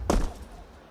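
A flashbang grenade in a Counter-Strike match goes off with a single sharp, close pop that fades quickly into a short tail.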